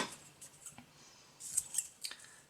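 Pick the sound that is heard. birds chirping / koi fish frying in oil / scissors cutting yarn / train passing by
scissors cutting yarn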